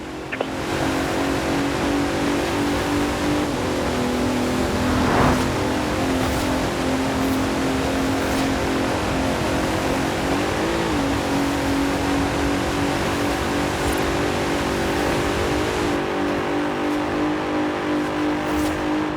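Racing car engines in Forza Horizon 4 hold a loud, continuous drone, with revs rising and dipping and occasional shifts in pitch, and no talking.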